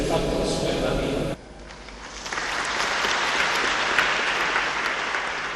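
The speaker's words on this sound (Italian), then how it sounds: "Il lungo applauso alla presenza delle istituzioni del territorio" Long applause from mourners at a funeral attended by local officials in Italy, rising after a brief stretch of speech into a steady, broad crowd clapping that continues to the end.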